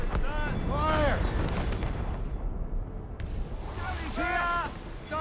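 Ship cannons fire in Assassin's Creed Rogue in a dense, booming naval battle, with heavy low blasts and rumbling over shouting voices and background music.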